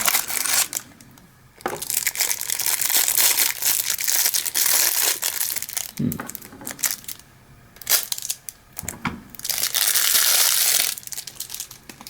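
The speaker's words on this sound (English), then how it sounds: "I don't have any of these unboxed as yet, so we get to rip open a carton" Cardboard toy carton for a Matchbox 2020 Power Grabs vehicle being ripped open, loud crinkling and tearing bursts in several bouts across the clip, close up, with no talking.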